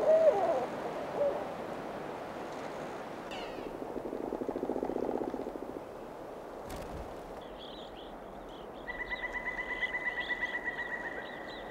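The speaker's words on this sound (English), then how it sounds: "the owl tries to look and sound as imposing as it can" Barred owl in a northern boreal forest giving territorial calls, a series of hoots and cat-like wailing vocalizations with pauses between them, followed by a rapid rhythmic chattering call near the end, heard alone against faint forest background.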